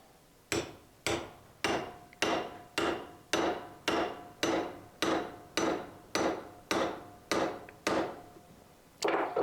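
Sharp metallic hammer blows drive a main drive bearing down through a 5/8 spark plug wrench on a DeWalt DW-708 sliding miter saw, about fourteen evenly spaced strikes, close and loud with brief ringing decay.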